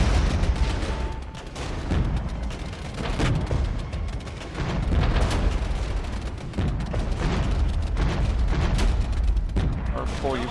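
Heavy artillery barrage in the Iron Tide game's Regiments operations mode: repeated booming blasts and gunfire crackle roll continuously, close and loud, with a few sharp impacts standing out across the stretch.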